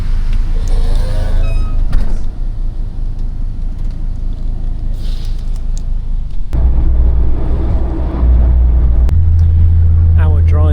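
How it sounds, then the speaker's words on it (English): A bus rumbles along a road in Thailand on a 45-minute ride to a pier, its low engine drone and road noise steady throughout, with people talking inside the cabin. "We've got a 45-minute bus drive to get to the pier where we get the boat out to the lake houses"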